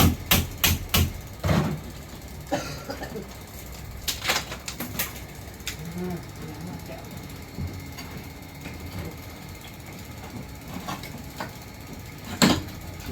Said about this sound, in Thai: ตอกเล่งงัดออกทีละชิ้นนะคะหลังจากตัดซอยแล้วนะคะ